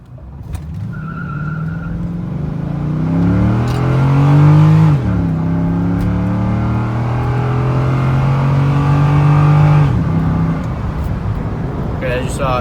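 C6 Corvette launching from a standing brake in competitive driving mode, engine roaring up through the revs with a rising pitch, a brief dip at the shift into second, then climbing again loudly and close before cutting off.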